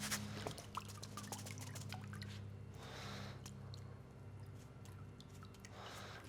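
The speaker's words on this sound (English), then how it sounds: "So I'm just washing that like so, pouring some more water over it." Water is poured over rice in a pot to wash off the starch, giving soft splashing, trickling and dripping with wet squishing as the grains are stirred, close and quiet, with no talking.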